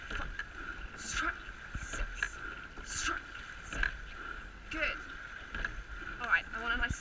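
A rowing crew in a head race takes oar strokes in a steady rhythm, with repeated splashes and clunks about once a second and a coxswain's voice calling over a constant hum and wind.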